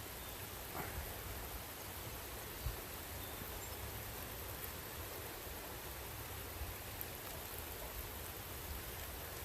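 Steady rain falls on trees in a forest, a dense even hiss with no break, moderately close, with a faint knock or two and no voices.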